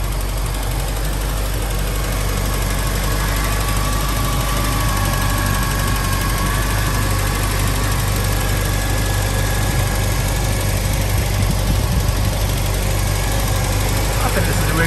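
MG Midget 1500 engine idling steadily, a constant low rumble with a faint whine that holds evenly throughout, loud and close with no pauses.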